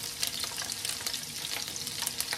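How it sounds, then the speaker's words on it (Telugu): Green chillies frying in a few spoons of hot oil in a pan, a steady close crackling sizzle with brief stirring scrapes and no talk over it. "కొంచెం పచ్చిమిర్చి వేపుకోండి ఫస్ట్, తర్వాత అల్లము"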